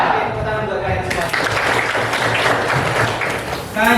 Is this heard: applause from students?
yes